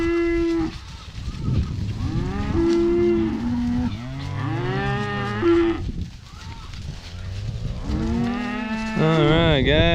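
Several steers mooing loudly and close, overlapping long bellowing calls from a herd of cattle being separated for pasture, one after another with no talk.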